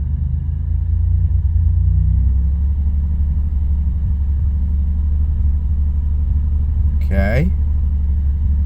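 A Grand National car engine runs steadily while being brought up to raise oil pressure, giving a continuous low, close rumble with no sharp rise. A voice speaks briefly near the end.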